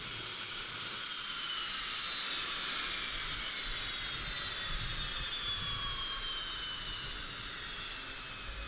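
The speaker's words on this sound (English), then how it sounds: "Current versions of the Su-25 attack aircraft are still in active service in Russia, Ukraine, Belarus, Angola, Afghanistan and several other countries" A Sukhoi Su-25 attack aircraft roars with a loud, sustained jet-engine whine and a high turbine tone that slowly falls in pitch as it passes, steady and unbroken throughout.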